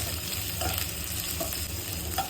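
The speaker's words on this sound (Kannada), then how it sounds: "ಕ್ಯಾಪ್ಸಿಕಮ್ ಮಿಕ್ಸ್ ಮಾಡಬೇಕು, ಆಮೇಲೆ ಫ್ರೈ ಮಾಡಬೇಕು" Capsicum being stirred and fried in a pan for gobi manchurian, a steady close sizzle with soft scraping stir strokes repeating about once every second throughout.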